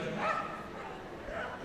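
A dog yips and barks amid a noisy indoor crowd at the Crufts 2013 agility team medium final, with voices talking over the barking throughout.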